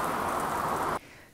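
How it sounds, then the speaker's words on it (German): Steady rain pours as a dense, even hiss for about a second, then cuts off abruptly. "Endlich Regen."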